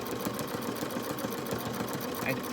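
A Bernina jumbo bobbin sewing machine stitches in reverse, a fast, even mechanical chatter of needle strokes that runs steadily and fairly quietly from start to finish.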